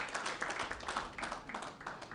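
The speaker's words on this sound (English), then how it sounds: "Please give him a clap as he comes on the platform." A symposium audience claps for a panelist walking onto the stage, a faint, distant patter of scattered hand claps with no voices.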